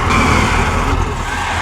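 Supercharged eight-cylinder Ferrari Europa engine at a concours, a loud, continuous, close-up roar with a raspy, rising edge and no pauses.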